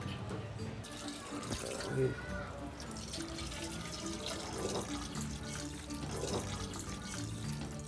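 Water runs from a tap into a pot, a soft steady splashing stream that stays faint and sits under a speaking voice.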